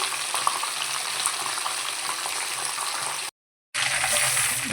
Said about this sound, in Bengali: সব দিকে ঘুরিয়ে ঘুরিয়ে ভাজতে হবে, চারদিকে